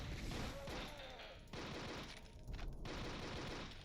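Chaingunner enemies in a Doom map spray rapid, continuous bursts of gunfire, fairly close and harsh, with a few brief pauses in the barrage.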